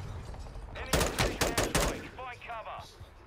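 Rapid automatic gunfire in Call of Duty: Modern Warfare II, a loud burst of several close shots in quick succession, followed by quieter game chatter and fainter sounds.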